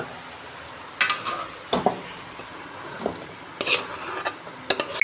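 Boiled taro cooked in hilsa fish oil being poured from a pot, with a few sharp scraping and clattering bursts of metal utensils over a low sizzling background, no voices.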